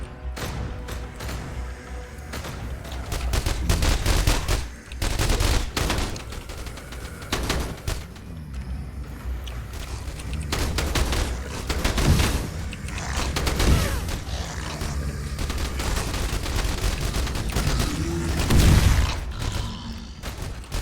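Video-game gunfire keeps up throughout as dense, rumbling volleys of repeated shots, with mechanical creaks mixed in and no talking.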